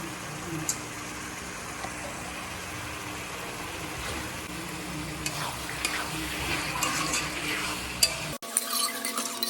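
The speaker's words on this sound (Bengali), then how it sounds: "চিংড়ি মাছগুলো দিয়ে একটু ভাজা ভাজা করবো" Prawns coated in salt and turmeric fry in a home kitchen pan, giving a steady, moderately loud sizzle with occasional stirring scrapes that runs almost throughout before a brief cut and quieter tail.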